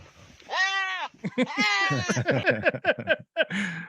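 A goat bleats in a string of loud, wavering, nasal cries, some drawn out and some short and choppy, with voices mixed in.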